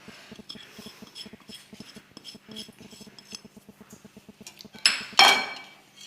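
Spices and garlic are stirred into a pot for a Kabyle dish, a spoon tapping and scraping the metal in a steady, quick rhythm of light clinks, ending with two louder, ringing knocks.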